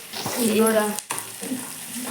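Onions and other chutney ingredients frying in a pan with a close, steady sizzle, briefly interrupted by a stirring scrape, while a voice talks over it.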